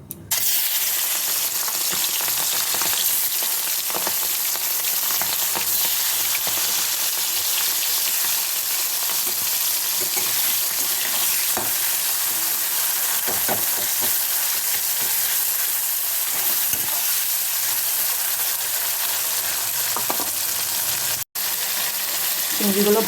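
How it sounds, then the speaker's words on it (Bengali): Prawns fry in hot oil with bay leaves in a pan, giving a constant close sizzle that holds steady for a long stretch, with occasional soft stirring clicks. "এবার আমি চিংড়ি মাছগুলো ভেজে নেব।"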